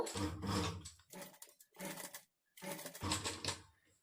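Sewing machine stitching a princess cut blouse seam with invisible thread, several close, loud bursts of rapid whirring and rattling separated by short pauses as the fabric is turned.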